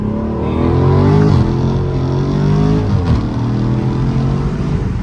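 A Dodge Scat Pack accelerates hard, its loud engine note climbing and dropping through gear changes with crackling exhaust pops, heard close from inside the car and without talk.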